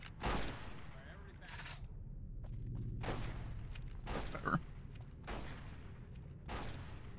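Fallout New Vegas game gunfire bursts out in several loud, separate shots spaced about a second apart. A faint background hum runs between them, and a voice talks softly under the shots.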